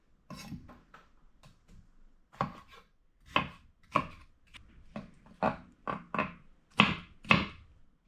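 A knife chops a tomato on a board in a run of about fifteen distinct, close cuts, sparse at first and then quicker and sharper, with no talking.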